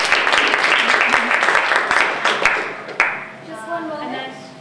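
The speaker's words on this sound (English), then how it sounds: "round of applause for Christian" An audience at an education event on STEAM gives a presenter a round of applause, with a loud, close burst of many hands clapping that stops abruptly, followed by a brief voice.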